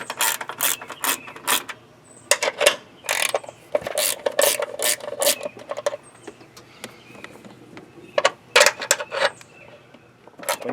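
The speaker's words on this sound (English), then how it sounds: "a 10mm gear wrench is going to be your best bet to get the solenoid off" Ratcheting clicks of a 10mm gear wrench loosening solenoid bolts in a tight spot of a Subaru WRX STi engine bay, coming in quick repeated bursts of close, crisp clicking with short pauses between strokes.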